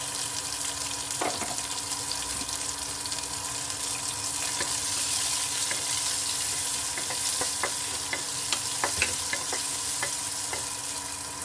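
Mustard seeds, onion and green chilies frying in a couple of spoons of oil for a mixed sprout dish, a steady soft sizzle broken by scattered sharp seed pops and crackles.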